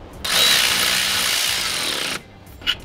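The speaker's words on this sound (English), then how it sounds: "we're not gonna go full tilt with the old electric ratchet on these" Electric ratchet tightening throttle body bolts on a Nissan 350Z, a loud, close whirring buzz running steadily for about two seconds before cutting off, followed by a small click.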